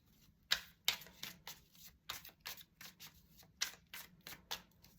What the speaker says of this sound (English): And I have shuffled these cards really well.